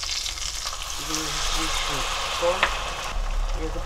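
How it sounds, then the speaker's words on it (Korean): Potatoes stir-frying in a pan for a spicy Korean braised potato dish, with a steady close sizzle and occasional scraping as they are stirred, under brief speech. "좀 널널해질 때까지 볶아줘"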